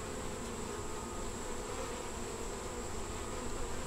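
Honeybees in a small nuc hive give a steady, dense buzz, close and continuous, with no voices over it.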